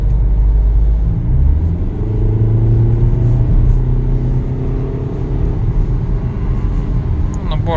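A VW Golf 7 pushed a little harder on a test drive in Germany, heard from inside the cabin: a loud, continuous engine rumble with a steady drone as it accelerates, while someone talks over it.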